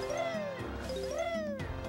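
A kitten in the Banjo-Tooie video game meowing, two clear rising-and-falling meows in close succession, close and fairly loud.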